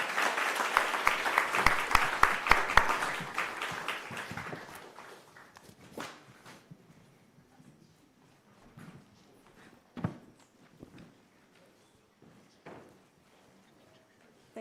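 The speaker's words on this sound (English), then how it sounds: "I'd like to give a round of applause for both of you." Applause from a conference audience at a climate summit panel in Paris swells loud and dense for about five seconds, then thins to a few scattered claps and shuffling fading into quiet.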